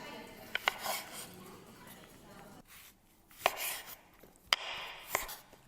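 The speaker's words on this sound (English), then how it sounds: "Slice my aubergines." A knife slices through aubergines on a board with a few sharp, uneven cuts, sparse clicks separated by short pauses.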